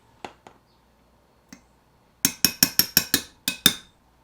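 A stirring tool clinks against a container of liquid plastic as metal flakes are mixed in, a few isolated taps followed by a quick run of eight sharp, ringing strikes, close and clear with no talk.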